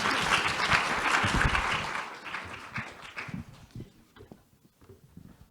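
An audience at a panel discussion applauds with dense, loud clapping that fades out after about two seconds, leaving a few scattered claps and faint room noise.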